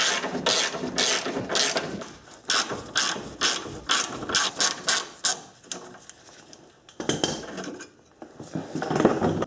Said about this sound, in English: I have a bracket here with 1, 2, 3 14 millimeter bolts. I'm going to remove this bracket.